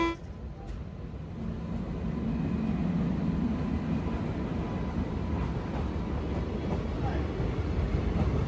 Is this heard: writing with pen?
no